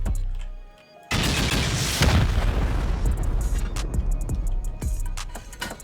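A rocket blast hits a sheet-metal base on a mountaintop skyscraper in a survival shooter game. After a brief lull comes a loud, sudden boom, then a long rumbling roar with scattered crackling debris pops fading out.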